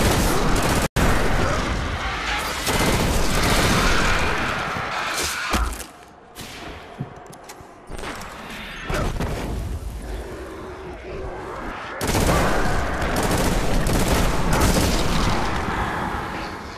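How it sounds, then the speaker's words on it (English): A machine gun in the video game Destiny fires in loud, dense bursts with heavy booming impacts, broken by brief quieter gaps before the firing resumes at full intensity. "I love the machine gun"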